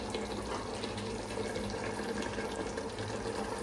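Water heating in a pot for chicken dum biryani rice in a home kitchen, a steady low bubbling and rushing sound that stays even and close throughout, with no talking.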